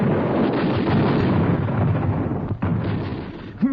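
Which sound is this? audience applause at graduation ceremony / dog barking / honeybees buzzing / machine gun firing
machine gun firing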